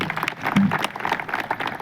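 Audience applause at a Brahma Kumaris self-awareness session in Nashik, a lively burst of many hands clapping close and loud, filling the moment with no speech.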